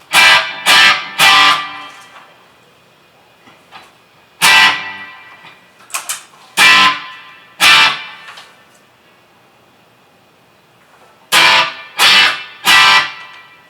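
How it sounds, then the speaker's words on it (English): An electric guitar played through a pedalboard with distortion and a subtle, clear reverb sounds loud, close chords in bursts, some in quick triplet groups, with a short, clean decay after each. "it's a nice, clear, subtle reverb"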